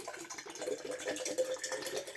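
Water is poured into a hydrogen drinking water generator, a soft close gurgling, splashing stream that runs continuously at moderate level with no talking.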